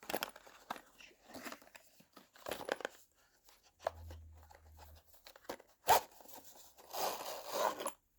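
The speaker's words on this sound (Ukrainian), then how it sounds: "Так що розпаковую цей ніж." Close crinkling, tearing and zipper-like rasps come from a Sencut Watauga knife being unpacked from its packaging, in irregular bursts with brief pauses and a soft low hum in the middle.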